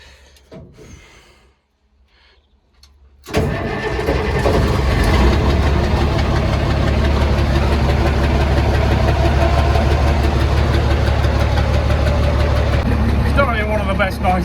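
After a few quiet seconds, a car engine roars to life and holds a loud, steady, throaty rev close by, with no talk over it.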